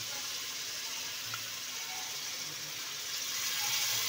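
Chicken broth pours steadily into a cooking pot for a Shirazi cardoon stew, a continuous liquid splashing and gurgling that grows slightly louder toward the end, heard alone without talk.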